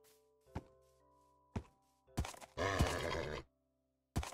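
A Minecraft horse lets out a long, loud whinny, set between several short dull thunks and grunts with silent gaps.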